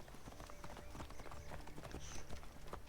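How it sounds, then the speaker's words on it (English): Horse hooves clip-clop in a steady rhythm as horses run down a high street past shops, the hoofbeats near and moderately loud over outdoor noise. "Almost ran into that horse's bum."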